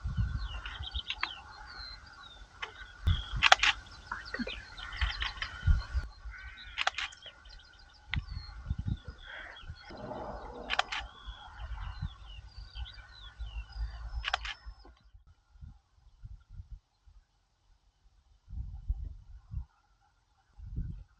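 Skylarks sing high over open South England countryside, a thin, continuous warbling that carries on for most of the stretch and then fades to quiet, with some close handling bumps and rustles mixed in.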